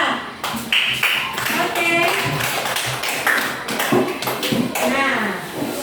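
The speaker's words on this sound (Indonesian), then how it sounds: "Beri tepuk tangan kepada teman-teman kita dari kelompok 4." Classroom students clapping for a group of classmates after their presentation, brisk irregular claps heard alongside children's voices and a teacher speaking briefly.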